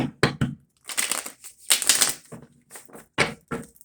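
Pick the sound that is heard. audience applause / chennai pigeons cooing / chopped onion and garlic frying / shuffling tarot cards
shuffling tarot cards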